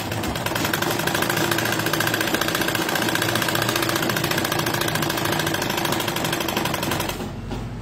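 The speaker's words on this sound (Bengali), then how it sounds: "চাপ সেলাই দিলাম, এক সাইড হলো।" A sewing machine runs steadily, stitching salwar fabric in a fast, even mechanical chatter that holds loud and close for about seven seconds before stopping.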